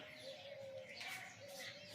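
A small bird chirps in the morning, its thin repeated calls sounding close against a quiet background, with some cooing-like tones mixed in.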